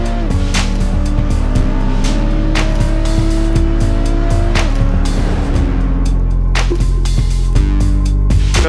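A Nissan GT-R race car at full throttle on a long 850-metre straight at the Motul Challenge, engine roaring loud and close as it climbs through the gears, with clear shifts and rising pitch over a dense, continuous drone.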